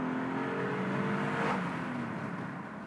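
A 2022 BMW 2 Series Active Tourer 220i's turbocharged engine surges under boost, a steady whirring drone with a brief hissing rush midway, heard from inside the car without any talk.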